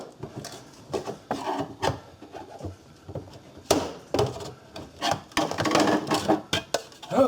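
Screwdriver scraping and prying at gasket sealant around a GM fuel sending unit, a run of irregular close scrapes, rubs and knocks, some bursts louder than others, with no talking.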